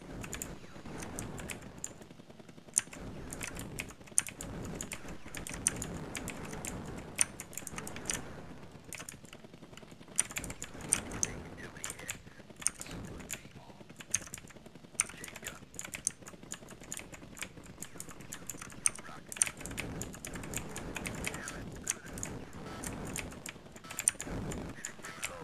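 Computer keyboard with sticky keys being typed on during PC play of the 1996 game Seek and Destroy, irregular rapid clicks and clusters of keystrokes continuing throughout, fairly faint and close, no talk.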